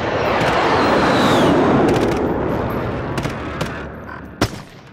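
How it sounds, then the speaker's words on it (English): Gunfire from a group of players rings out in a Warzone match, a dense continuous rumble of shots thinning toward the end into a few sharper separate cracks, with no talking. "There's a bunch of people shooting off over there."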